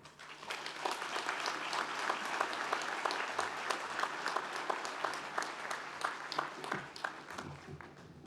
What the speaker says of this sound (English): I think we should give him another round of applause for that